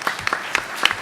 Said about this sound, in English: give our panel one more round of applause